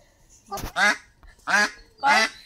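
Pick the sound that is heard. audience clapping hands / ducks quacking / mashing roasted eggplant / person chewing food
ducks quacking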